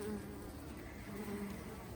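Honey bees buzz steadily at an opened hive with the top bars lifted, a close, continuous hum that holds even throughout with no talk.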